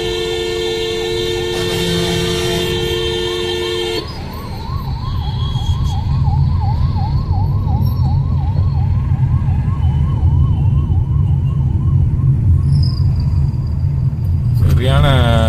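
An ambulance siren wails in repeating rising-and-falling sweeps from behind in traffic, steady and loud for most of the stretch, mixed with road and engine noise inside a moving vehicle; no one speaks.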